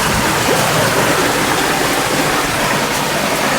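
A waterfall pours into a landscaped pond, a loud steady close-up rush of splashing water that holds even throughout with no voices.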